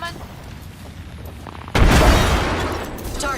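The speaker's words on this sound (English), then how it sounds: "Grenade incoming." In a video game, a grenade detonates with a sudden loud boom that follows quieter gameplay noise, then leaves a sustained rumble and debris tail.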